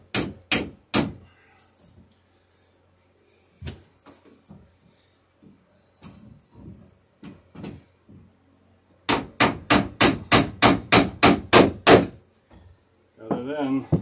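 Hammer blows drive a nail into a wooden dory against a backing block, a few sharp strikes followed by a fast run of about a dozen evenly spaced loud hits, with quieter knocks and handling noise between.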